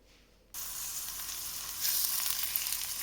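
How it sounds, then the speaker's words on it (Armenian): Meat frying in a pan over low heat, a steady close sizzle that starts suddenly after a quiet moment and swells slightly louder partway through. "Ավելացնում ենք միսը։ Ու մարմանդ կրակի մեջ շարունակում ենք տապակել։"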